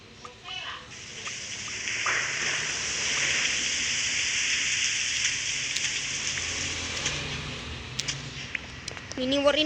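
Steady rain hiss in the survival game Mini World, a broad continuous wash holding for nearly ten seconds, with a few brief clicks near the end and a voice rising in the last moment.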